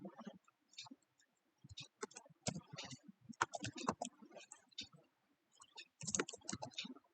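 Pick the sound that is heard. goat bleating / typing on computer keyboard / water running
typing on computer keyboard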